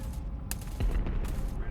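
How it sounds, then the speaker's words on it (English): Rapid bursts of video-game gunfire striking a ship's hull, a dense crackling fusillade of overlapping shots that stays loud and close through the short moment. "They seem to be shooting at the hulls of the ship."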